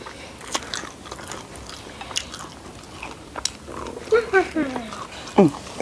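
Someone bites and chews crunchy food during a Thai home meal of shrimp-paste chili dip and papaya curry, with close crisp crunches between bouts of talking.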